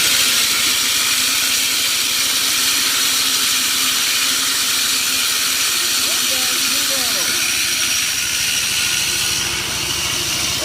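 A reel mower spins steadily during backlapping, its reel whirring against the bed knife with a loud, constant hissing grind and faint scraping grit throughout.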